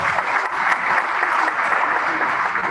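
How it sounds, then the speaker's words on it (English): Steady applause from an audience at a cancer awareness event fills the room, loud and continuous with no voices above it. "Give her a round of applause."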